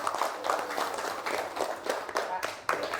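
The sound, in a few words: audience clapping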